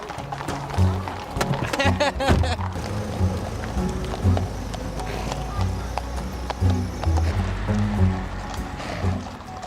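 Horses clip-clop past during a riding of the marches procession: a busy stream of hoofbeats mixed with engine rumble and voices.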